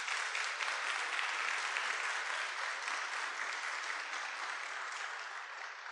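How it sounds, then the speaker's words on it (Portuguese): A church congregation claps together in steady, dense applause that holds evenly for the whole stretch and eases slightly toward the end. "Se você recebe, dê um aplauso ao Senhor."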